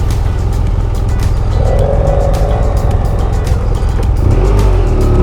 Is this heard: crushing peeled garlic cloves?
no